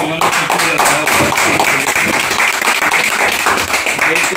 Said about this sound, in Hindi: चलो ताली हो जाए